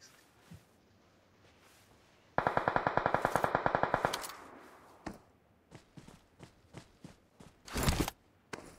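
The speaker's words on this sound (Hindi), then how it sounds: "ये कौन सी गन चला रहा है भाई" Automatic rifle fire in the battle royale game PUBG, starting with a rapid burst of around a dozen sharp, loud shots, followed by scattered single shots and a heavier blast near the end.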